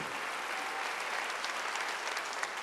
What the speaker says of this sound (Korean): 박수를 하나 더 주세요